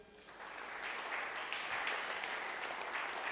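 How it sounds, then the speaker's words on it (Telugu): Church congregation applauds at a sermon, a dense steady wash of many hands clapping together for a few seconds, moderately distant and without speech. "ఏదో ఒకసారి రిబ్కాకు చప్పట్లు కొట్టండి"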